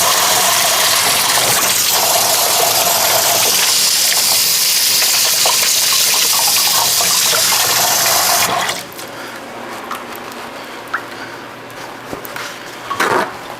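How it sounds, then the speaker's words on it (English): Water from a sink tap gushes steadily and loudly while hands are washed, then cuts off abruptly, leaving a quieter room with a few small clinks and drips. "I'll wash my hands real quick"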